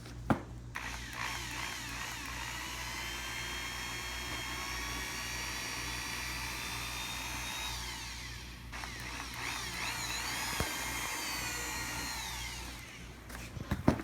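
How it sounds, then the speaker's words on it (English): A power drill bores through rubber weatherstripping and a 1976 Chevy Camaro door, whirring steadily and loudly for several seconds, pausing briefly, then running again before stopping. "I know exactly where to drill the drill bit through the rubber and through the door"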